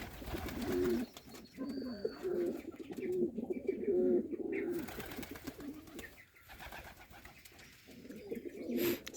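Pigeons in a village coop give soft, repeated coos in short rhythmic phrases, fairly near and quiet, with faint background rustle.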